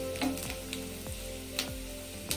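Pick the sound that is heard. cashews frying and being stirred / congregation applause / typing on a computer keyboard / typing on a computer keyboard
cashews frying and being stirred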